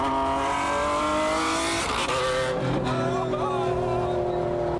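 A mid-engine Chevrolet Corvette C8 with a 6.2-liter LT2 V8 drives past loud and close, its engine note high and sustained, then shifting in pitch partway through as the car passes or changes gear.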